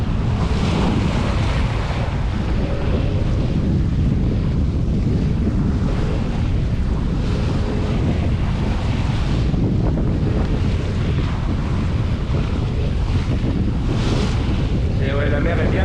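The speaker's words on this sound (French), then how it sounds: "Et ouais, la mer est bien lâchée." Rough, breaking sea and strong wind off the Pointe du Raz in Finistère, heard from a sailboat in the Raz de Sein: a continuous loud roar of surf and gusting wind buffeting the microphone throughout, with no talk.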